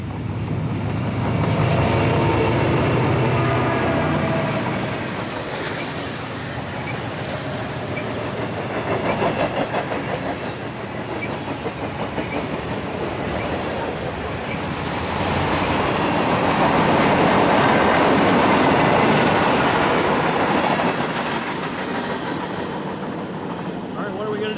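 A long mixed freight train, about 6,870 feet, rumbles past steadily, a broad continuous roar with rhythmic clatter of wheels, swelling and easing over time.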